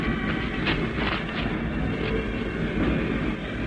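Steady rumbling train noise with faint rhythmic clatter, a continuous mid-level wash of rail sound used as an effect in a 1947 crime radio drama, heard alone without voices.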